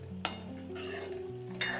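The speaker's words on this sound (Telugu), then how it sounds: "సాంబార్ మరుగుతుంది" Sambar simmers in a cooking pot with soft, steady bubbling and a low hum, broken by a couple of sharp clinks.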